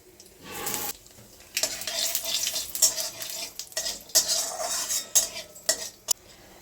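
Crackling sizzle of nigella seeds hitting hot mustard oil in a wok, with scraping stirs and metal clinks, steady and close.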